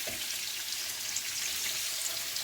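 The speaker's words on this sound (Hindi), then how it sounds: "मीडियम फ्लेम पे ये फ्राई हो रहा है।" Spices for pulao sizzle in a pan over a medium flame, a steady soft hiss of crackling oil with no voices.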